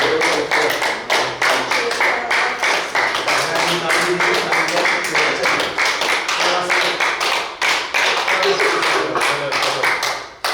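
An audience claps steadily at a yoga workshop held at a university physical education department, with sustained rhythmic applause filling the room throughout and a voice heard faintly underneath.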